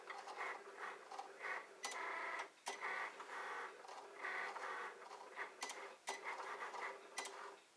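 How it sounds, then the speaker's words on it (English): A quiet printing machine drives a pen across paper in short scratchy strokes with small pauses and occasional ticks, faint and close with no voices. "it's using the pen and printing out thank you"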